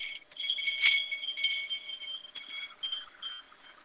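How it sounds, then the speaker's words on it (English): Wind chimes ringing on a balcony, a series of clear bright metallic tones in irregular strikes, one louder strike early, then fading and scattered rings alone. "And you can add to the beauty with some wind chimes."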